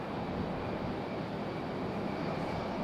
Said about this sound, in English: there is an E175 down there making its way out